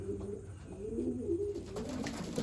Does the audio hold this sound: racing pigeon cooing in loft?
yes